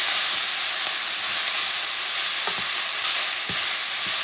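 Garlic frying in a pan for venison chili, a dense steady sizzle and hiss heard up close, with a few soft stirring knocks.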